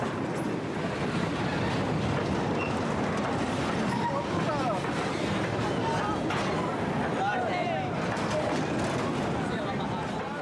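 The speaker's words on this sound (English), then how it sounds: "for those who have never caught a moving train, it's going too fast" A moving freight train gives a continuous roar of wheels and rattling cars, close and loud throughout with faint squeals, while voices are heard beneath the noise.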